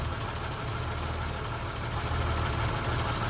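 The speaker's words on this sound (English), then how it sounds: "let me do some other cylinder snap throttle checks" A 1994 Isuzu Rodeo engine that runs rough with a weak ignition coil, running steadily near the listener during a cylinder snap-throttle check, with a constant mechanical drone and vibration and no voices.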